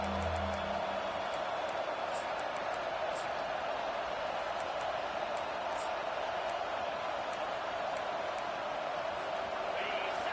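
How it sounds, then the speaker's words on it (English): Steady, continuous crowd roar fills a stadium during an American football game as fans try to fire up the defense, loud and unbroken throughout with faint talk underneath. "The roar of the crowd trying to fuel this defense to keep them pinned in their own end."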